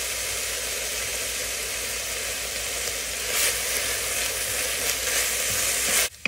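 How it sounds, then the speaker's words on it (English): Bacon sizzles and crackles steadily in a hot pot, a continuous loud hiss with brief stirring scrapes and a clunk at the end. "I've been stirring and frying this bacon for about 10 minutes."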